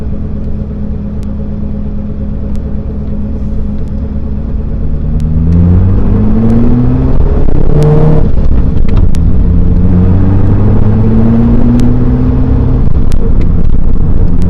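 A Ferrari F40 engine rumbles low and steady, then climbs through several rising pulls under acceleration while driving, loud and close inside the car.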